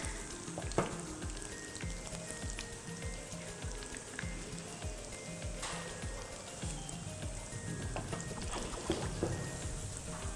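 Food frying in hot oil for an iftar dish, with a continuous close sizzle and crackle, small pops and occasional stirring or turning noises throughout.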